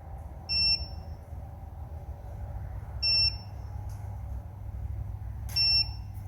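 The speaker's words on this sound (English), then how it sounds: "So it's a beep, a pretty good pause, and a beep." A Far Driver electric motorcycle controller signals a Hall sensor error code 1 with single short, high-pitched beeps, three in all, spaced by long even pauses over a low steady hum.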